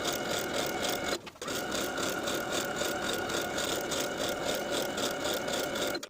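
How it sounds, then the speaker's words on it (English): A sewing machine stitches around the bottom hem of a skirt, a steady close-up whirring drone with a rhythmic mechanical pulse, briefly pausing once before running on continuously. "I'm going to sew close to my finishing stitches all the way around the bottom of the skirt"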